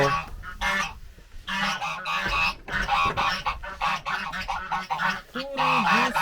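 Loud, busy gobbling from several turkeys close by in a farmyard, overlapping in bursts with only brief pauses between them.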